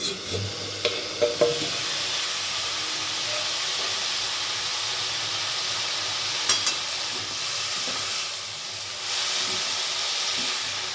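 Cabbage steams in its own juices in a covered pan with no added water, and the lid is lifted. A soft, steady hiss and sizzle runs throughout, with a few faint clinks and scrapes.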